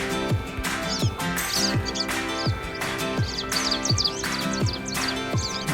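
Bird song alarm sound previewed in an iOS alarm clock app, bright repeated chirps and tweets over a rhythmic musical backing, continuous and fairly loud, with no talking.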